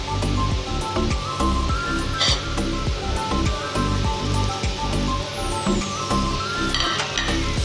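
Prawns go into a pan of frying masala for a prawn malai curry, setting off a loud, continuous sizzle close by, with metallic clinks and stirring scrapes and a brief burst of spitting oil partway through.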